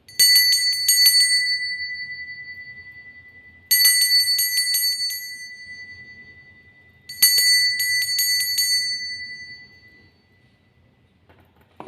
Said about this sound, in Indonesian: di sini kita akan mulai saja dengan ditandai lonceng berbunyi